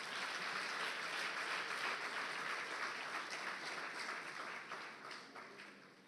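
An audience applauds the Lagos State Records and Archives Bureau at a book presentation, a sustained, fairly distant round of clapping that holds steady and then fades in the final seconds.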